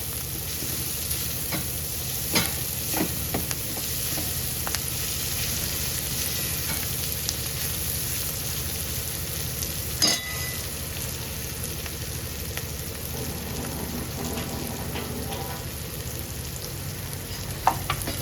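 Green chillies and lentils sauté in oil, a continuous close sizzle with occasional stirring clicks and scrapes, and no talking.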